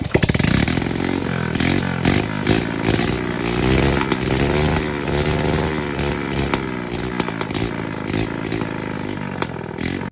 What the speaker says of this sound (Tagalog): Umaandar na yung motor.